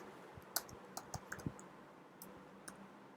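Quiet, close typing on a computer keyboard while working in the vi editor on Linux: a short, irregular run of light key clicks with small gaps between them, alone without speech.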